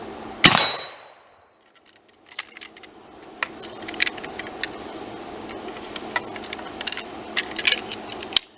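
A single sharp metallic clang of a bullet from a carbine striking a steel plate, ringing briefly, followed by scattered small clicks and rattles.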